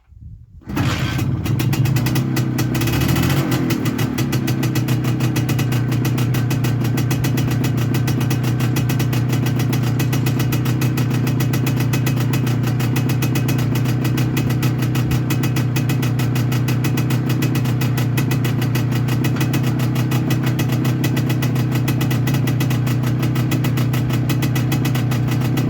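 A Soviet Muravei TMZ 5 scooter engine catches and settles into a steady, loud idle that runs on evenly and close by, with no talk over it.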